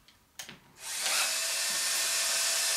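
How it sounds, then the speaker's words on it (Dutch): A power drill with a long auger bit bores into wood, starting with a couple of brief knocks before the motor spins up into a loud, steady, high whirring grind that holds to the end. "Het is een slangenboor."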